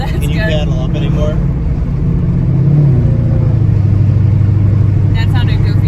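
A built, Whipple-supercharged Ford Mustang engine roars loud and close on dyno rollers, its note climbing and shifting as the transmission upshifts, with people talking over the steady drone.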